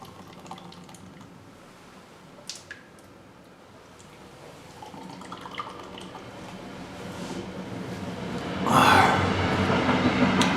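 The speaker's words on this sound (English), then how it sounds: "Fucking trains, I can still hear it from down here" Trains passing overhead, heard from inside an underground workshop bunker: a faint, muffled rumble that slowly builds and swells louder near the end, with a few small knocks and drips.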